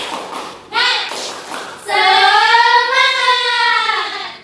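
A few sharp claps from a group, followed by classroom children chanting loudly together in a sustained, sing-song shout.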